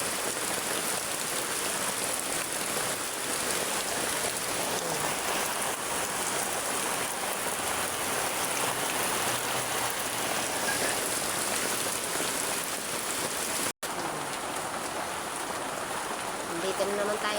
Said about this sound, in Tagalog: Malakas po kasi ang ulan.